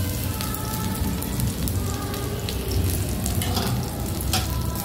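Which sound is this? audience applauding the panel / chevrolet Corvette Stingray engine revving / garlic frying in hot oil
garlic frying in hot oil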